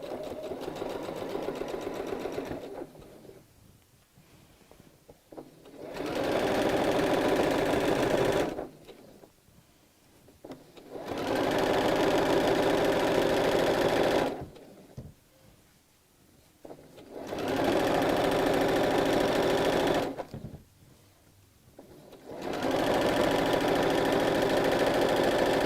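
A sewing machine stitches fabric for a skirt project in five loud, steady runs of fast rhythmic whirring, separated by short quiet pauses.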